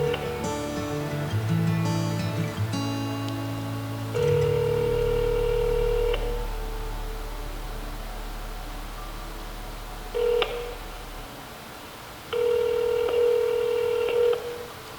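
A phone call is placed: rapid touch-tone dialing beeps sound first, then a low line hum and several long, evenly spaced ringback tones follow, clear and close with no talking.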